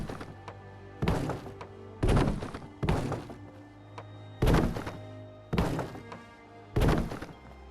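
Floor pieces being snapped into place during settlement building in Fallout 4, heard as six or seven heavy, solid thunks spaced roughly a second apart, each with a short boomy tail, over a low ambient hum.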